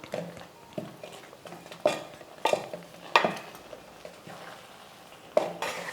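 Ground chana dal being stirred into a laddu mixture in a pan, with intermittent scraping and clinking strokes of a spoon against the metal, fairly close and moderate, with quiet gaps between strokes and no talking.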